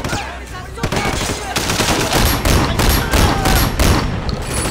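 Loud, rapid bursts of riot shotgun fire crack out in quick succession in the video game Sleeping Dogs, nearly continuous shots after a brief opening pause.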